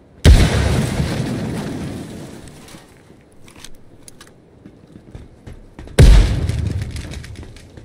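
Two heavy grenade blasts in Ground Branch, a tactical shooter, each a sharp booming hit that rings out and slowly decays, the first near the start and the second about six seconds later, with scattered clatter between them.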